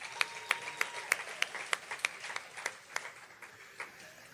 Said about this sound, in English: One last collective applause for Pop Choir.